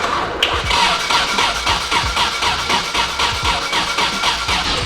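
A Nissan R34 Skyline engine, untouched for a year, runs loudly and close up with a steady, busy mechanical rumble and a rhythmic pulsing beat. A brief sharp click comes near the start.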